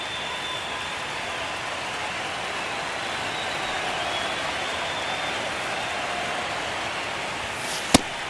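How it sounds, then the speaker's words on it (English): A stadium crowd in the baseball game MLB The Show 25 keeps up a steady, dense roar through a tense ninth inning, with a brief sharp hit near the end. "Crowd locked in right now."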